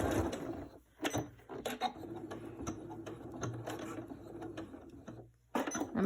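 A sewing machine stitches a fabric face mask with a quick, steady mechanical chatter close by, broken by a couple of short pauses.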